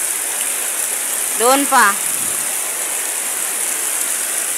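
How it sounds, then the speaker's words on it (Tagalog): Very heavy rain pours down steadily outdoors in a downpour, a dense broadband hiss throughout, with a brief voice speaking over it midway. "Guys, sobrang lakas ng ulan."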